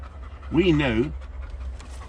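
A dog pants in one short, close breathy burst, with a low background hum around it.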